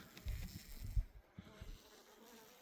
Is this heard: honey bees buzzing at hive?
yes